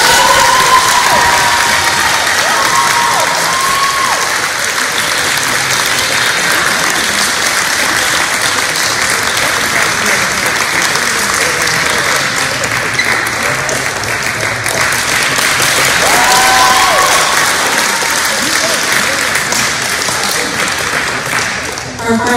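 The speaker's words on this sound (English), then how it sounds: "Please join our department in giving a big round of applause in recognizing and congratulating Elizabeth Edwards and Julian Hansen" A department awards ceremony audience claps in a long, sustained round of applause, loud and dense, with scattered cheers and whoops rising above the clapping and faint voices underneath.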